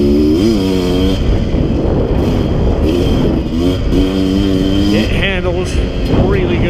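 Dirt bike engine revving loudly and continuously, rising and falling in pitch while riding trails, with people talking over it throughout.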